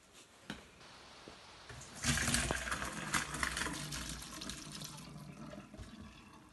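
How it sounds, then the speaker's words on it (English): Pasta water pours through a colander into a kitchen sink, a quiet drip first, then a sudden loud rushing splash that slowly tapers off, with no voices. "So I'm going to drain this now with a colander, okay?"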